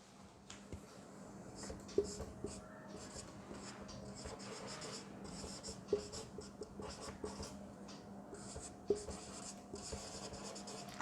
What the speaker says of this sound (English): Let me write an example.